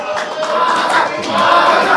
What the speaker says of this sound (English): So the crowd is erupting at the C Cup.